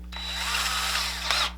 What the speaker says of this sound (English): we're going to take our drill